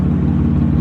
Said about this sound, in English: here we have an M4 with an Armatrix exhaust.